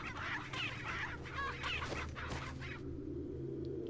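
Chicken clucking in the video game Resident Evil 4, a run of busy clucks and squawks over steady game ambience that ends abruptly partway through.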